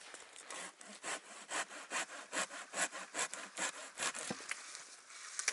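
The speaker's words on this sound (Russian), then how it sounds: "Пилим сухую ель." A Silky hand saw cuts through dry spruce wood in a steady back-and-forth rhythm, about fifteen rasping strokes heard close and alone.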